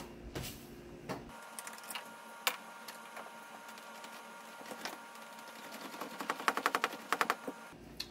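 A battery-powered tool backing out 10 millimeter bolts on a Mercedes W126 300SD seat frame, with short whirring bursts and clicks, then a rapid chattering run near the end, close and moderately quiet.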